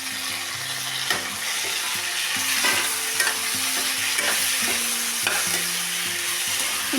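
Okra, ginger, garlic, green chili and tomato sautéing in a pan, a continuous hiss of frying under irregular scraping stirs from a utensil, with no talking.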